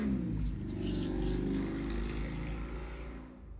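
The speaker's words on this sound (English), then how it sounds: "I apologize in advance for any motorcycle sounds that happen" A motorcycle passes outside, its engine rumbling loudly and steadily before fading slightly as it moves away.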